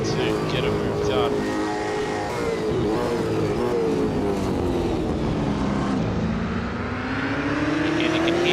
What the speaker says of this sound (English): Again, you can hear the car going quite there on the exit is Munro, the race leader.